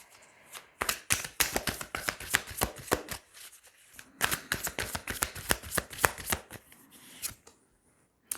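Tarot cards are shuffled and laid down in a quick run of crisp, close flicks and slaps, bursts of rapid riffling separated by short pauses.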